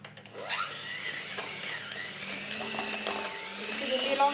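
An electric hand mixer whirs steadily as it blends sugar in a bowl for Kabyle-style lemon tartlets, its motor pitch rising and shifting over several seconds, close and continuous.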